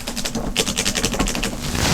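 A paintbrush tapping and swishing against a glass water jar while being rinsed, a rapid series of light clinks and splashy knocks close by, fairly loud for about two seconds.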